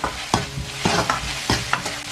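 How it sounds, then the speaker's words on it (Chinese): Pixian chili bean paste stir-fried in hot oil with scallion, ginger and small chilies, a spatula scraping the pan in steady strokes over a soft, continuous sizzle, close and alone. "把这郫县豆瓣酱我们给它炒香"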